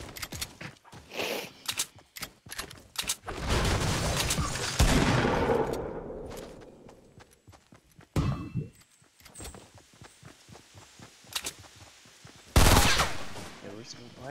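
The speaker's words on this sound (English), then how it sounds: "Why are you guys shooting?" Gunfire in the video game 14 days comes in bursts of rapid automatic shots, followed by separate sharp single cracks. The loud stretches are broken up by quieter gaps.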